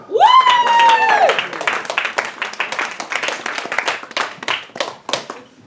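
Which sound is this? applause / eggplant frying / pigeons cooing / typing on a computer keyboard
applause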